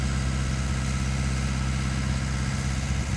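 The engine on a Barbco 824 CBM boring rig runs steadily at a loud, close idle-to-raised throttle, with a constant low rumble and an even mechanical drone throughout.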